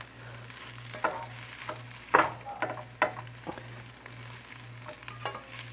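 Chopped sliced sirloin pork sizzles in a pan for Japanese-style fried rice, a steady soft crackle broken by a few sharp clinks and scrapes of stirring, close and fairly quiet with a low background hum.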